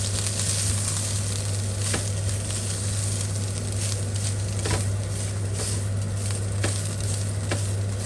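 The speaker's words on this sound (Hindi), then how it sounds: "अब इसे हम थोड़ा सा ब्राउन करेंगे।" Boiled chicken browns in a small amount of oil in a pan, giving a steady, close sizzle with scattered crackles and pops throughout and no talking.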